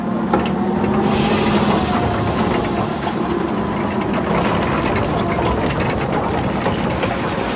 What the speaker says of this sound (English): The engineers bring in the largest steam shovels in the world.